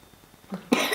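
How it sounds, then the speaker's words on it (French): A single short cough from a small child, close by, after a brief quiet moment. "Tu tousses encore un peu toi hein"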